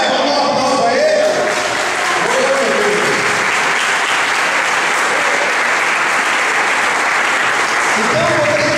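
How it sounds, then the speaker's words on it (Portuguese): Loud, dense applause from a church congregation, sustained throughout, with voices calling out over the clapping at the beginning and end. "Vamos dar um aplauso a ele."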